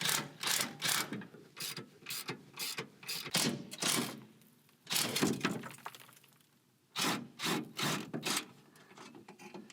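A ratchet removes bolts from a Toyota Tacoma bumper in repeated quick clicking bursts, close and crisp, pausing briefly between runs.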